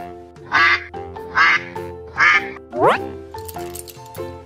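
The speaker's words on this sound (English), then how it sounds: "Duck." Four loud quacks from a toy duck, evenly spaced about a second apart, with a brief rising squeak-like tone after the third and playful music underneath.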